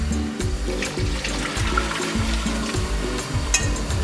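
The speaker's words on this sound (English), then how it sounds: "pour it in there." Oxtail juice is poured into a cooking pot, a steady watery splashing and gurgle that runs continuously and close for several seconds with no voices.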